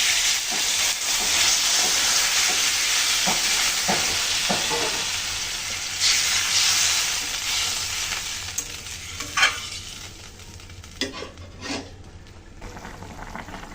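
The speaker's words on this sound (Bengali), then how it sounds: "তরকারি ফুটতে শুরু করেছে" Pumpkin and potato curry in a pot just topped up with water, giving a steady close hiss and bubbling with scattered clinks of a spoon against the pot, thinning toward the end.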